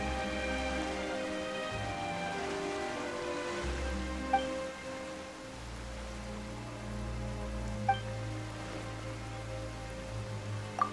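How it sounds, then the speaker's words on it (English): Steady rain falls in the Genshin Impact game world, a continuous hiss under low sustained music tones, with a few faint chimes sounding briefly. "Why is it raining all of a sudden?"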